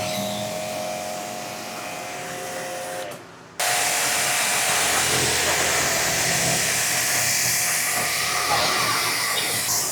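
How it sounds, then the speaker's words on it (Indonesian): A powerful steady hiss of spraying water from an Orion Superjet 100 pressure washer cleaning a motorcycle kicks in abruptly after a short lull and roars on without a break to the end. "Jadi ini untuk tekanan dari Orion Superjet 100 ini lumayan kuat ya cuy ya"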